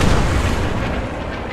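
A bomb explodes in the World War II shooter Post Scriptum, a dense, close rumbling boom that fills the whole moment and fades slowly, with no voices over it.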